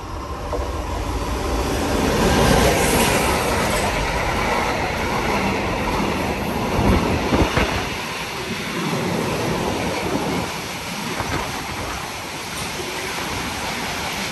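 A train roars through Anzola Emilia station on track 1 at speed, a loud, continuous rushing and rumbling that holds for the whole stretch, close by and with no voices over it.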